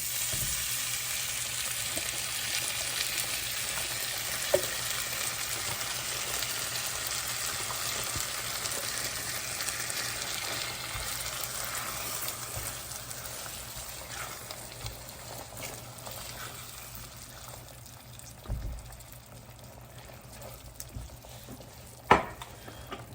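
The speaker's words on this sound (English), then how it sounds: "now it's ready for me to add the can of crushed tomatoes" Canned crushed tomatoes cooking in a pan for shakshouka, hissing and sizzling in a steady broad wash, close and continuous, with a couple of faint knocks near the end and no talking.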